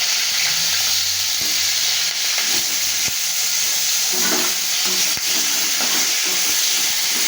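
Cut eggplant fries in hot oil with nigella seeds, a loud, continuous sizzle and hiss running throughout with occasional clicks and stirring scrapes.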